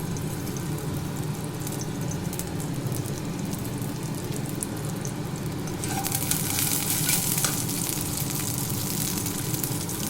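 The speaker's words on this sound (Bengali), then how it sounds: "কালো জিরে ফোড়ন দিলাম," Black cumin seeds tempering in hot mustard oil in a wok give a steady, close sizzle and crackle throughout, brightening and growing louder partway through, with no talking.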